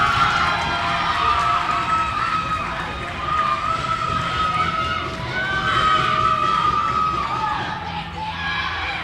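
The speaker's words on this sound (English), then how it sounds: "As you can tell by the crowd noise" Crowd noise at a WMR vs BCR hockey game after a goal, a steady roar of cheering and shouting from the stands that swells and holds throughout, with voices mixed in.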